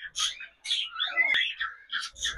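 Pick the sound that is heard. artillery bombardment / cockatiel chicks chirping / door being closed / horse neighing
cockatiel chicks chirping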